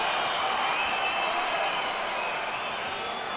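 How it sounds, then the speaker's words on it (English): Steady, distant roar from an arena crowd at a boxing event ahead of Oscar De La Hoya versus Ricardo Mayorga, a continuous wash of cheering and murmur with no talk in the clip. "Crowd in the arena is still responding favorably for Oscar De La Hoya"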